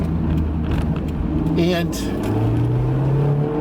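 A Honda S2000 convertible's engine hums and rises in pitch as it is driven through the gears on a highway, with a shift and renewed climb, while a voice talks briefly over it.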